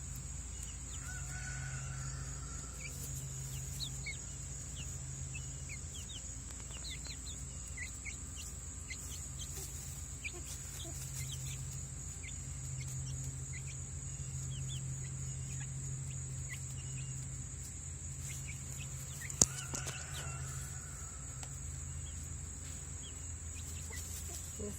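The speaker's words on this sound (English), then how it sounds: "So you can hear them make these little happy sounds." Soft chirping and peeping of baby chicks scattered through a steady hum and insect drone, faint and fairly distant, with one sharp click.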